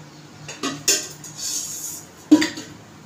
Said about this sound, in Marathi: आता मी थोडी फ्राय करून घेते। थोडंसं तेल टाकायचं आपल्याला, अगदी थोडंसं,